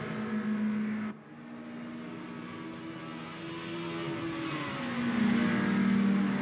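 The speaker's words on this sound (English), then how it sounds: "Have a listen to that intake sound of this 4-cylinder engines." Intake and engine note of BMW four-cylinder touring cars racing on the Nordschleife, a steady droning tone that dips briefly, then rises in pitch and loudness as the cars accelerate.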